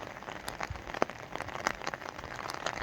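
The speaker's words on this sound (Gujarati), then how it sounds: "અને વરસાદ પણ ચાલુ જ છે હજી." Rain falling in a green garden, a steady patter of drops with scattered sharper splashes across the whole stretch, close and moderately loud, with no talking.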